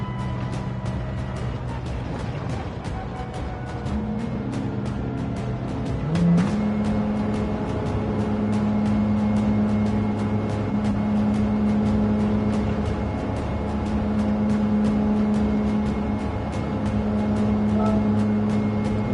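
A Porsche 911's engine drones steadily in Gran Turismo 7, holding a sustained, close, mechanical tone that rises in pitch partway through and stays level after, with no pauses or voices.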